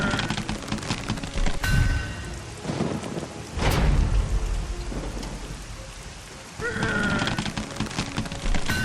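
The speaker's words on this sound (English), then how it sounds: "Why did it have to rain today, of all days?" Steady heavy rain hisses throughout a video game scene in The Cursed Crusade, broken by several deep rumbles and cracks of thunder, with no talking.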